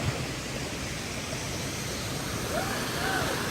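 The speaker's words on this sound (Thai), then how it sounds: "ธรรมชาติภูผาแบบนี้ได้ยินแต่เสียงน้ำตกเสียงนก" Waterfall in a rocky forest setting in Laos, a steady broadband rush of falling water heard evenly and without break, with a few faint bird chirps on top.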